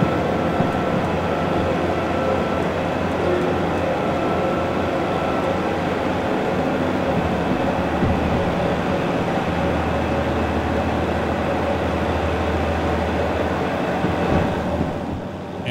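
A train in the Derail Valley simulator game rumbles steadily with a droning engine and rolling noise, loud and continuous, as it runs into a tunnel, the sound shifting in tone partway through.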